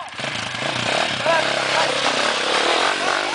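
A trail motorcycle revs hard as it accelerates, its engine roaring steadily and fairly close while voices shout over it.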